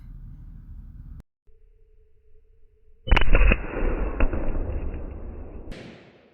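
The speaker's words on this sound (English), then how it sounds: "we just took that shot with the 160 hot core" A 7mm Remington Magnum rifle with a muzzle brake fires a 160-grain Speer Hot-Cor round at a 100-yard ballistics gel target, giving a sudden loud blast with a harsh, noisy ring that lingers for a couple of seconds before cutting off.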